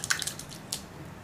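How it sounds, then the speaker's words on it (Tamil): Cooked lentils (dal) being poured into a pot of cabbage sambar for a South Indian recipe, giving soft wet drips and squishy splats, a few quick plops at first then a quieter liquid settle. "இப்போ நம்ம பருப்பு ஊற்றிக்கலாம்."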